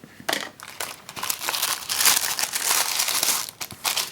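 Plastic packaging from a new black iPhone delivery being unwrapped close up, with bursts of crinkling and crackling that rise and fall in loudness across several seconds.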